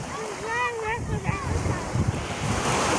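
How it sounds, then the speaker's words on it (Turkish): Sea waves wash onto a beach amid steady wind rush, with voices talking over the surf. "Şimdi denize geldik. Deniz kenarında oynuyoruz."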